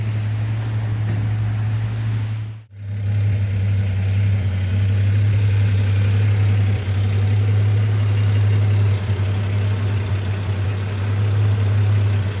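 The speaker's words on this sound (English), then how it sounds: "we're in top gear, pulling up quite a steep hill really" A 1960 Humber Super Snipe's engine drones loud and steady in top gear while pulling up a steep hill, with one brief dip in the middle before the sound carries on.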